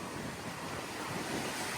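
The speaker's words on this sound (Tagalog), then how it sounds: "Tapos dito sa gilid dagat, malakas ang hangin" Strong wind buffets the microphone beside the sea, a loud steady roar blending with crashing surf for a brief moment.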